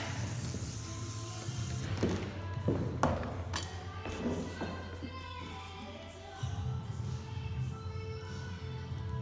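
A few short hissing sprays of hairspray onto a cheer ponytail burst out over a steady low hum, with soft thumps and rustling in between.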